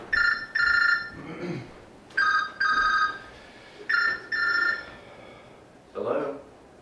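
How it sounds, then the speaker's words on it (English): Telephone rings indoors in three repeated bursts of double trills, with a person speaking faintly and softly between the rings. "Let me get the phone."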